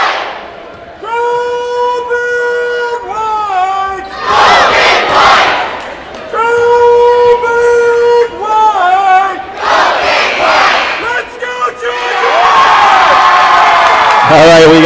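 Parents and a student section roar and cheer at a high school boys basketball game, a loud, sustained crowd din with shouts and rhythmic chanting that swells toward the end.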